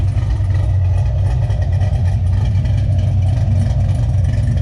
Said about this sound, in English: You can hear the exhaust note, fairly aggressive but doable.